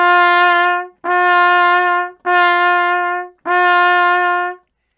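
Trumpet sounding G on the second line with alternate fingering, valves one and three pressed, four long steady notes of equal length separated by brief breaths, close and clear with no talking.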